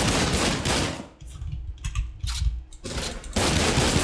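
Rapid automatic gunfire rattles in the online shooter game The Cycle, loud bursts opening and closing the stretch with quieter scattered shots and pauses between.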